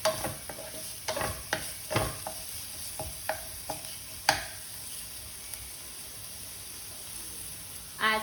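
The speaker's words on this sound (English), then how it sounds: "Add chopped onions. Saute it for around half a minute" Chopped onions being sautéed in a pan for Mumbai vada pav, with faint sizzling under repeated sharp scrapes and knocks of a spoon stirring against the pan, fairly quiet and close.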